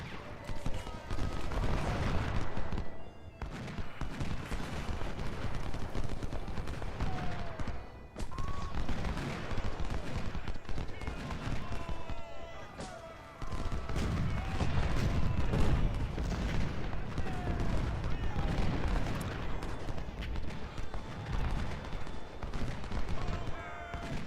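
Dense, continuous battle din of artillery booms and massed musket volleys from a Civil War strategy game at First Bull Run, rumbling steadily with brief lulls near 3, 8 and 13 seconds, with a voice talking over it.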